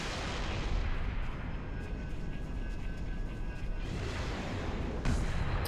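Turret gunfire in the game Halo Reach: a dense, steady roar of rapid shots rolls on without a break, with a brief heavier burst near the end and no voices over it.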